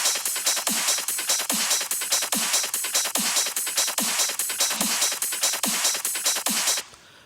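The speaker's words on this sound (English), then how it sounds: "just the percussion on its own will sound something like this." Hard trance percussion loop playing alone with no kick or bass: bright, busy hi-hats and cymbal hits in a steady fast pattern with a regular accented low thump, loud and continuous, cutting off abruptly at the end.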